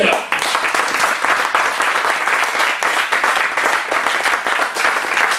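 A church congregation bursts into steady, loud applause to acclaim the Lord, a dense wash of many hands clapping with voices mixed in.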